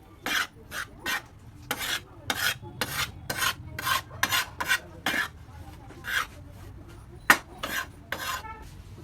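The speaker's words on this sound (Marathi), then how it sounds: "बाजरीचे पीठ एकदम भारी भाजले भाजलेलं बाजरीचं पीठ आहे" Bajra flour being dry-roasted with oil on a tava griddle and stirred, giving a steady run of short, evenly spaced scraping and rasping strokes of a utensil against the pan, close and fairly loud with no talk.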